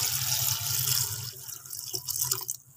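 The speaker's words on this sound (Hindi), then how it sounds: "और ये है 2 गिलास पानी" Two glasses of water pour into a pot of spiced chickpea curry with turmeric and ground coriander, a steady splashing stream that tapers off and stops near the end.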